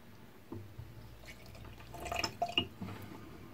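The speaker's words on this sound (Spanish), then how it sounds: "Entonces es cuando echamos agua." Water poured into a batch of homemade wood pore filler paste, giving soft dripping and splashing that builds in the second half, close and fairly quiet, with no talking.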